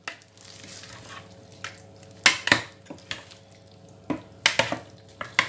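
Fried chicken wings being tossed and stirred with a soy and honey sauce in a pan, with sharp intermittent clinks and scrapes of a utensil over a low background hum, no one talking.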